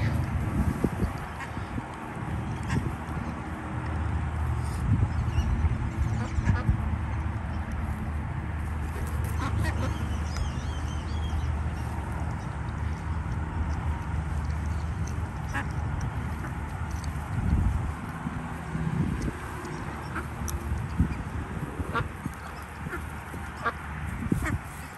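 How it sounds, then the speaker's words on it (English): Ducks quack repeatedly through a steady outdoor din of people talking nearby, the calls mixed in and fairly close amid the crowd noise. "Quacking like a duck."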